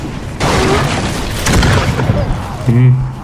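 Exploding enemy blowing up in a video game, a sudden booming burst followed by scattered popping blasts, loud and close, with someone talking over it.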